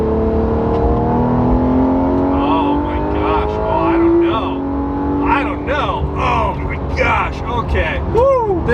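A Porsche GT3 RS in PDK accelerates hard, its engine note rising loud and close through quick upshifts as people talk excitedly throughout.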